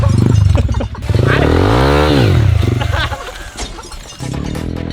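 An enduro motorcycle turning around, its engine revving loud and close, rising and falling in pitch through the throttle blips, ending in a rough idle.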